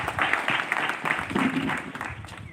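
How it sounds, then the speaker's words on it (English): Audience members clap for invited guests at an afternoon forum held under a tent, a moderate burst of applause mixed with voices chattering through it. "Can we clap for our guests that came this afternoon?"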